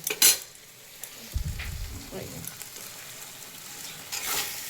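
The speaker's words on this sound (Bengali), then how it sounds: "এই ধনে পাতাটা দিয়ে দেবো, দিয়ে একটুখানি নেড়ে ছেড়ে নামিয়ে দেবো" A spoon stirs bean curry in a pan just after coriander paste goes in, with soft sizzling and scraping, a few sharp utensil clinks at the start and end, and a low stir in the middle, close and fairly quiet.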